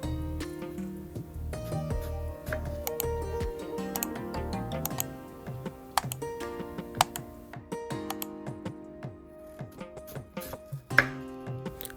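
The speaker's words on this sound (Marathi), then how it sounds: "आता याला आपण मधोमध कापून घेऊ आणि याचे एक इंच असे काप करून घेऊ" A knife slices elephant foot yam (suran) into inch-thick pieces on a board, giving a steady series of close, sharp chopping taps with brief pauses, alone without talk over a faint kitchen hum.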